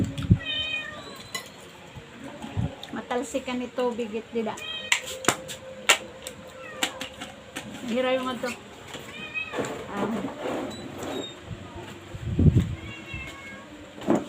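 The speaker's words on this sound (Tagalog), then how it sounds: "Mainli yung mga pusa namin." Several hungry house cats meow repeatedly, close and loud, during a family dinner of tinola and paksiw, while people talk over and between the cries.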